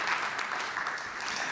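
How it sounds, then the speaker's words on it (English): An audience at a startup pitch event gives a round of applause: steady, dense clapping of moderate loudness heard from a little distance. "If not, a round of applause."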